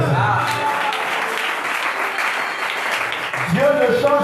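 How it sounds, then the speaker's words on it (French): A church congregation at a Sunday morning service in a tabernacle breaks into sustained applause, a dense clapping wash filling the space for several seconds, with a voice cutting in near the end. "acclamons très fort pour ça"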